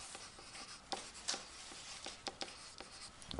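Chalk or marker strokes scratch across a classroom board while a math lesson is written out, producing short, irregular bursts of writing and tapping at moderate distance with no voices.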